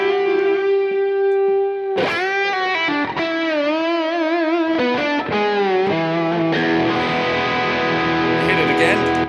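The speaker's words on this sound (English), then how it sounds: "it's just everything with drive on and delay and reverb." An electric guitar played through an Axe-FX FM9 with drive, delay and reverb rings out in loud, sustained distorted chords and bends, with echoing repeats trailing between notes and no talking.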